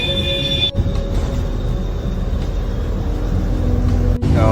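An MSRTC ST bus on a night run from Mumbai to Dapoli, its engine giving a steady low drone and road rumble inside the half-empty cabin, with two brief thumps breaking the hum.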